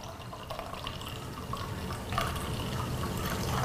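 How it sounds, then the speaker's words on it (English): Food-coloured liquid poured from a bottle for a water splash photography test, a steady faint trickle and splash at close range that grows slightly louder toward the end, with no talking. "So I'm pouring liquid over there."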